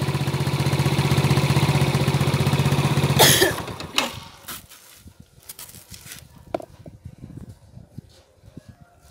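A motorbike engine idles steadily with a loud, even putter, then cuts off abruptly, leaving quiet clicks and faint knocks.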